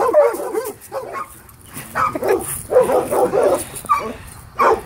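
Dogs barking, yipping and whimpering in excited bursts close by, overlapping through the whole stretch.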